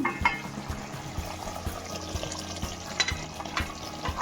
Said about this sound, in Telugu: కూర పెట్టి 15 నిమిషాలు అయిపోయిందండి. ఒకసారి కలుపుకుందాం.